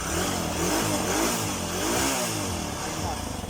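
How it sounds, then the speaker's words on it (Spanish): An AX 100 motorcycle engine runs steadily nearby during an ignition switch repair, its idle wavering slightly in pitch, with someone talking over it. "Entonces tenemos la motocicleta encendida ya con el potenciómetro."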